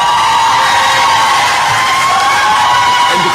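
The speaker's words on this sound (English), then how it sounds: "And the crowd goes wild." Loud crowd cheering and whooping at a Yonkers city council meeting, a sustained roar of voices with scattered shouts, steady throughout.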